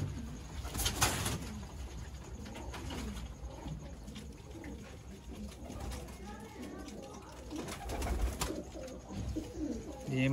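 Sialkoti pigeons coo repeatedly in a loft in Sialkot, soft rolling calls recurring throughout amid wing movement and background noise, with someone talking over them.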